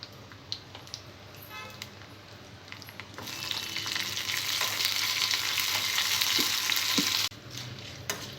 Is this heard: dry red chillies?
yes